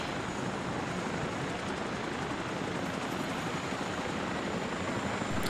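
A helicopter in the video game ArmA 2 makes a steady, loud, broadband rotor-and-engine roar heard from inside the cabin, unbroken for the whole stretch.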